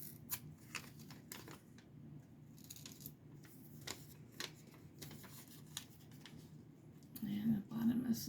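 Paper being torn by hand to give an envelope decoration a rough edge: a close run of irregular crackly rips and rustles, with a soft voice-like murmur near the end.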